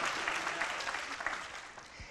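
A few people clap briefly in a church, scattered close-up applause lasting about two seconds.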